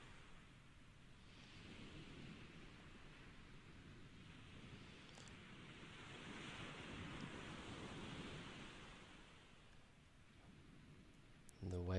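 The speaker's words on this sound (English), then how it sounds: "And the waves have really picked up." Ocean waves wash steadily around a sailboat at sea after sunset in GTA 5, a soft continuous surf and wind rush that swells in the middle and stays quiet and even.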